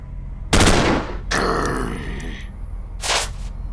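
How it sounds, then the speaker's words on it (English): Automatic gunfire from a squad soldier in the tactical game Stellar Tactics: a loud, close burst of rapid shots, a longer ringing stretch of fire, then a shorter final burst, with no talking. "do an automatic shot"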